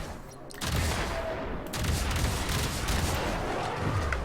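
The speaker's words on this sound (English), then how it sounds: "Couple of cannon batteries." Cannon batteries fire in the Warframe video game, a dense burst of booming blasts that breaks off briefly and then resumes as a loud, continuous barrage.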